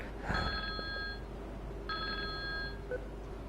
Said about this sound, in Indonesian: kalau kemudian ada telepon, kita sambut telepon